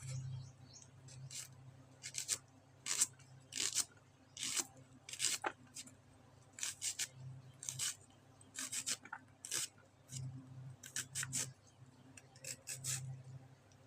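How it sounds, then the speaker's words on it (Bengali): A knife slicing onions on a board, a quiet, close series of short crisp cuts in an irregular rhythm, about two dozen strokes over a low background hum. "এখন আমি পেঁয়াজ কটাও কাটি নেব।"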